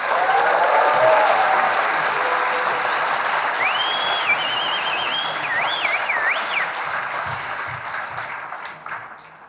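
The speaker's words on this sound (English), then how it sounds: "if all those companies don't deserve a huge round of applause" Loud, sustained audience applause at a Startmate Melbourne 2019 startup demo day fills the room, steady throughout and tapering slightly at the end, with a few whistles rising above it.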